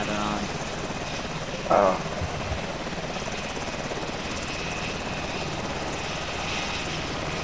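Troop-carrying helicopter in the Arma 2 video game, a steady, dense rotor and engine drone filling the whole stretch at even loudness, with a brief voice exclamation early on.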